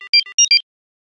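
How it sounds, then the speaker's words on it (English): A brief synthesized recreation of the Kim Possible ringtone: a quick run of bright, layered beeping tones alternating in pitch, loud and clear, then silence. "the ringtone sounds like this with all of the layers."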